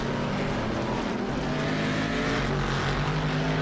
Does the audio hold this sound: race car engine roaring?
yes